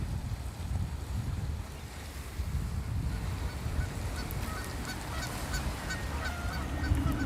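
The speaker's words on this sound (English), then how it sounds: "And some geese down there making noise." Geese honk near the Blue Water Bridge in Michigan, with several calls gathering toward the end over a constant background wash of water and wind. No one speaks.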